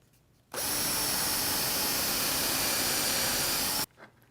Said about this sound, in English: I'm just driving the last screws in here, through the birch and back into that oak runner